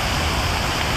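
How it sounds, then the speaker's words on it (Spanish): Water from illuminated park fountains at night pours steadily in a cascade, a constant broadband rush that stays loud and even throughout, with no voices. "cómo cae el agua cristalina como una cascada que brota desde una laguna."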